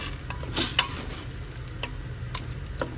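Meat browning in a pressure cooker, a steady close sizzle and frying hiss with a few sharper stirring scrapes and spatters, no talking.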